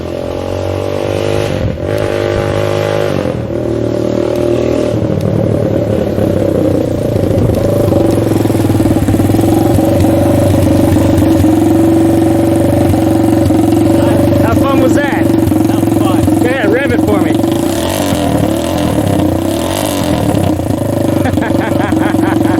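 A minibike engine, started with an electric starter, runs loud and close, its steady drone rising and falling with repeated revving and a rattly edge throughout.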